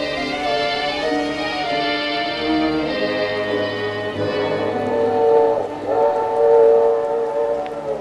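A train sound effect from a vintage Sam Spade radio drama plays alone: a steady rolling rumble under a long, wavering multi-tone whistle that swells and fades over several seconds.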